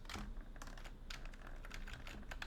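A computer keyboard clicks in quick, uneven bursts of typing that continue steadily throughout, close and fairly quiet, over a faint background hiss.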